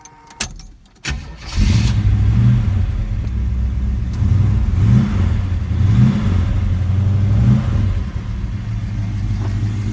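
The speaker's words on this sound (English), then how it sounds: "Let's see if I can get this thing fired up." A car engine cranks and catches after a few clicks and knocks, then settles into a loud, steady idle with several brief revs rising and falling, close by.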